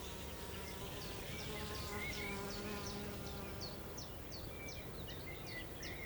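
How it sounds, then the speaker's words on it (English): A hummingbird hawk moth hovers over meadow flowers in the Jura Mountains, its soft steady wing buzz faint and continuous, with repeated high bird chirps nearby. "It's often mistaken for a colibri, as, like the hummingbird, it also hovers."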